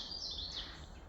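Birds chirp and call in the lush Great Dismal Swamp, a steady bright twittering that sits fairly close and continuous over a low ambient hum, with no voices.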